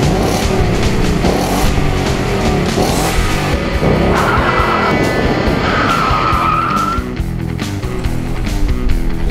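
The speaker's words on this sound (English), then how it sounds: "Rev up your engine!" A car engine revs hard alongside screeching tire squeal, loud and close, with the pitch climbing and falling through repeated surges and no talking.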